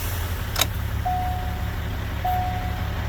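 A 2008 Duramax 6.6L turbo diesel truck engine idles with a steady low rumble throughout, joined by a brief click and a couple of thin tonal beeps.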